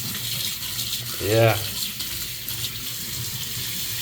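Hot water from a solar water heater runs from a tap, a steady splashing flow heard close with a brief swell in the middle, while a voice speaks a single word.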